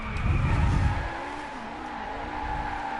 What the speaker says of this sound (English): Drifting a Ferrari